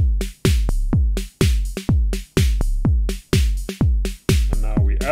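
Modor DR-2 drum machine running a programmed beat without randomization: punchy, evenly spaced kick and percussion hits repeat in a steady loop, loud and close, with no voices.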